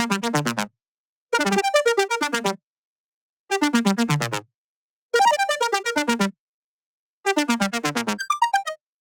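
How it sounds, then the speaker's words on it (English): A synth lead built from a saw and a sine wave with unison detune, run through a phaser, EQ and compressor, plays alone as five bright buzzy phrases of rapid repeated notes, separated by short silences. "It's just a saw and a sine wave with some unison detune."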